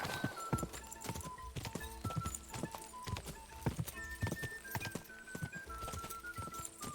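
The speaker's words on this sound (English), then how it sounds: "This horse." Steady clip-clop of horse hooves on a hard surface, several rapid beats in an ongoing rhythm, with birds chirping faintly in the background.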